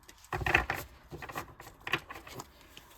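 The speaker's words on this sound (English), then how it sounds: "Shuffle it one more time." Tarot cards being shuffled during a card reading: a few short, close papery riffles and taps in quick bursts, fairly quiet, with no talking over them.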